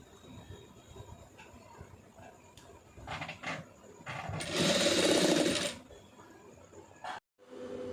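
A sewing machine stitches a neck design. Bursts of mechanical whirring and clatter come close up, with a long loud run near the middle and shorter runs around it, separated by quieter pauses, and no talking.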